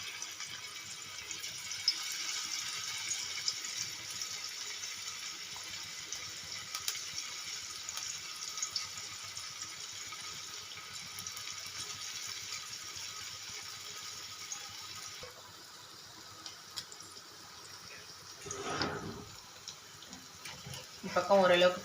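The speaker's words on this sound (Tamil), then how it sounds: "பன்னீர் தவாவில் வந்து எண்ணெய் ஊற்றி வச்சுருக்கேன். அதில் வந்து பன்னீர் வந்து வச்சுக்கலாங்க." Paneer fries in oil on a tawa with a soft, continuous sizzling hiss that eases partway through, followed by a few clattering knocks near the end.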